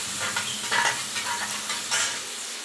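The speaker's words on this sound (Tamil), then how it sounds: "கோல்டன் ப்ரௌன் கலரில் வர மாதிரி நல்லா வதக்கிக்குங்க" Onion sautés in a pan toward golden brown, a loud, close, continuous sizzle with rhythmic scraping stirs of a spoon.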